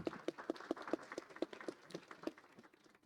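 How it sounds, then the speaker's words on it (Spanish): Audience applause at a science communication colloquium, with brisk separate claps in an uneven rhythm that thin out toward the end, moderately loud in a room with no talking. "Le damos un fuerte aplauso también a Nelly"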